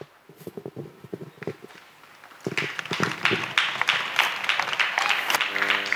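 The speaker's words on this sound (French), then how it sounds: "Oui, acclamez très fort." Church congregation breaking into loud, sustained clapping after scattered early claps, the dense applause swelling at mid-clip and continuing strongly to the end.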